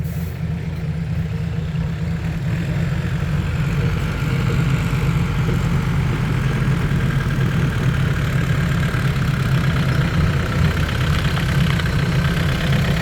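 A tractor engine idles nearby with a constant low rumble and steady drone, loud and unbroken throughout.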